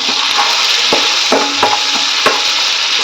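Coriander and green chili paste fries in a hot pan with a steady, loud sizzle, broken by a few soft scrapes of a spoon against the metal.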